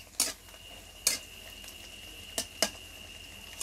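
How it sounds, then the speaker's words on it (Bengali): A utensil scrapes and taps a pan in a few sharp, separate strokes as scrambled egg for noodles is stirred over quiet, faint frying. "ডিমটাকে এখন খুব ভালো করে ভেজে নিচ্ছি"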